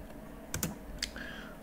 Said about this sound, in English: Now install, type this command.